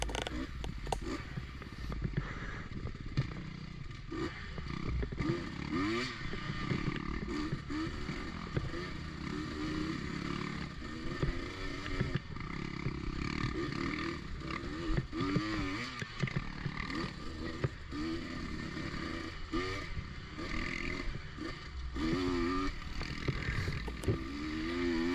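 Motocross motorcycle racing on a sand track, engine revving and droning steadily at moderate distance with rising and falling pitch as the rider works through the course, faint overall.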